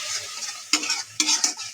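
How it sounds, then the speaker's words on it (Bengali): A spoon stirs and scrapes a sizzling spice paste of turmeric, chili and cumin powder in a pan for aloo dum, with three distinct scraping strokes over a steady frying hiss. "এখন মশলাটা ভালোভাবে একটু কষাই নিব।"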